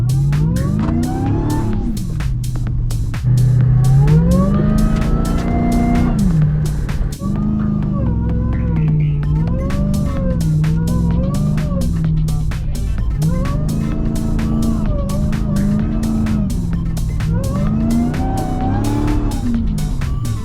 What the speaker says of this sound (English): That is a very noisy truck event.